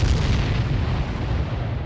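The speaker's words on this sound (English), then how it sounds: "There was this tremendous explosion, almost like a geyser going off." A tremendous Civil War mine explosion from July 1864, heard as a loud, sustained deep boom and rumble that fills the whole span, with dense low-end roar and no voices.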